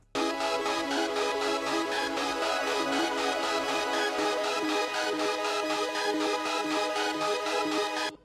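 Several bright synth melodies play together in a dense, continuous layer, shimmering and busy with no drums or voices underneath.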